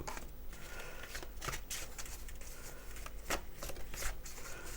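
Oracle cards shuffled by hand in a steady run of soft papery riffles and slaps, close and clear throughout with no voices.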